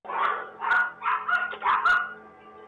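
A dog barks in doorbell camera footage, giving about five or six sharp, fairly close barks in quick irregular succession with no other sounds.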